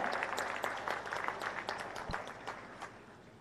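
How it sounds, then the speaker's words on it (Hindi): Enthusiastic applause from a large audience welcoming minister Nitin Gadkari to the stage at an event in Ratlam, Madhya Pradesh, dense steady clapping that gradually thins and fades. "एक बार जोरदार तालियां हो जाएं"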